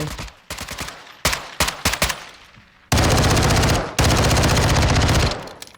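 Glock 18 pistol fire in Call of Duty Modern Warfare II: several short separate shots, then two long loud full-auto bursts of rapid fire, close and dominant.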